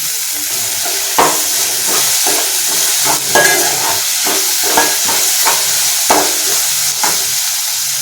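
Tomato and onions sauté with salt in a pan for netthallu fish curry, a steady loud sizzle with repeated scraping stirs and spoon knocks, no voices.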